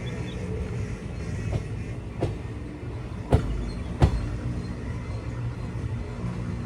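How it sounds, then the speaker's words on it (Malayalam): An express train on the Chikkamagaluru to Bengaluru line, heard from inside a general class coach, pulls into a station with a steady loud rumble broken by a few sharp clunks. "8:48 ട്രെയിൻ ഇതാ സ്റ്റേഷനിലേക്ക് എത്തുകയാണ്."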